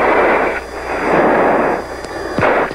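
A missile launched during a fighter jet engagement against a MiG-23, heard over cockpit radio as a loud, continuous roaring rush of broadband noise with faint static clicks.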